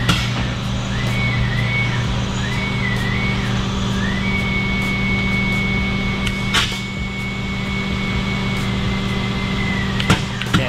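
A valve seat cutter machine runs steadily on CNC-ported Harley-Davidson Street Glide cylinder heads during a final valve job, with a continuous mechanical hum and scattered clicks and scrapes in a workshop.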